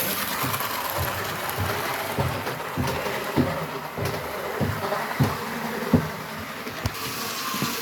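Steady rhythmic clicking and rattling of a vintage model train's small wheels over track joints, mechanical and moderately close, with a faint whirring hum underneath.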